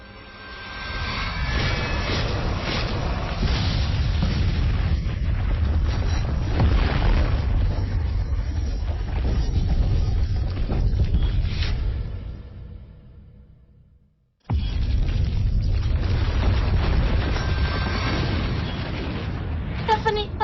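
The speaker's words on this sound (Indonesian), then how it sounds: "Gunungnya meledak!" A deep, continuous rumbling roar like a huge blast as a mountain explodes, fading briefly before surging back loud and heavy.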